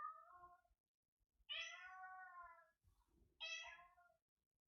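A house cat gives three clear, drawn-out meows, close and fairly quiet, with short silent gaps between them in an otherwise still room.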